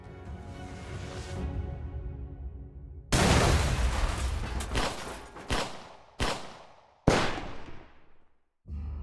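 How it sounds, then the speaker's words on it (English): A police breach explosion blowing down a door during a Brazilian hostage standoff, a sudden loud blast followed by a run of sharp, separated bangs spaced a second or so apart, with a muffled rumble before the blast. "After the explosion, it was possible to hear 4 shots."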